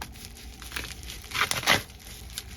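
Paper and wrapping crinkle and tear in a few short bursts, the loudest rips near the middle, close and fairly quiet.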